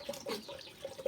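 Tap water running steadily into a sink, a soft continuous trickle with a few brief drips, fairly quiet and close, with no talking.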